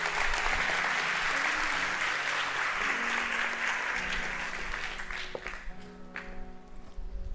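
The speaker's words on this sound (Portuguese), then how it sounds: "Dê um melhor aplauso, você pode dar ao Senhor." Church congregation applauding during a Sunday morning service, a dense wash of clapping that fades in the final seconds as tonal sounds from instruments or voices come through underneath.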